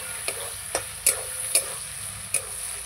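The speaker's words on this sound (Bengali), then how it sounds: "মাংসটা আমি খুব ভালো করে ভাজবো, তারপরে আমি মশলাগুলো দেব।" Meat and onion fry in a pan, a steady high sizzle broken by five sharp spatula scrapes and clacks at uneven intervals, close and fairly loud, with no voices.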